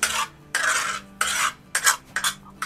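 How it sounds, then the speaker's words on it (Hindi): Two eggs are stirred while frying in a pan, several rough scraping strokes of a utensil against the pan with short pauses between, close, over a low sizzle. "ये देखिए अंडों को हिला के फ्राई करना है"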